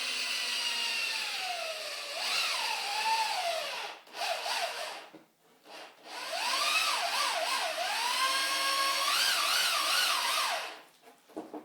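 A drill boring a tow hook hole through a plate, its loud close whine rising and falling in pitch as the bit bites, with a brief dip midway before it resumes and then fades.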